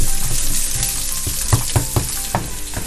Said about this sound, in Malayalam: നമുക്കിതെല്ലാം നല്ല രീതിക്ക് ഒന്ന് സോട്ട് ചെയ്ത് കൊടുക്കാം.